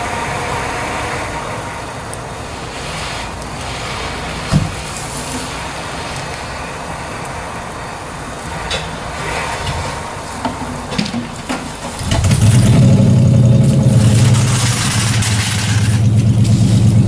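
Cadillac engine with its catalytic converter stolen, a rough low rumble idling for several seconds before revving up into a much louder, deeper roar, close by.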